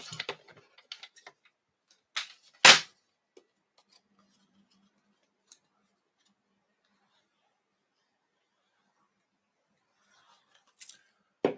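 Scissors cut paper during a Stampin' Up! card-making session, with a few quiet, brief snips spread far apart in near silence. A faint murmur of speech is heard at the very start.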